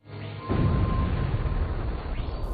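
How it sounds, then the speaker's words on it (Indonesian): A dynamite explosion: a deep, rumbling blast erupts after a short quiet lead-in and rolls on as a sustained low roar, loud and heavy throughout. "suara ledakan ini sangatlah dahsyat"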